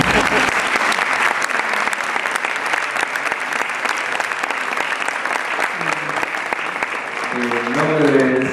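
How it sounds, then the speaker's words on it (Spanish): Audience applause at the close of a lecture by a priest, a dense, loud, steady wash of clapping that continues throughout, with a voice speaking briefly over it near the end. "Sí, pueden aplaudir"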